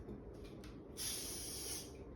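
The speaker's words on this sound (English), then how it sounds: "just spraying some Lysol." A short, steady hiss of a Lysol disinfectant aerosol spray can starts midway and keeps going for about a second, close and fairly quiet.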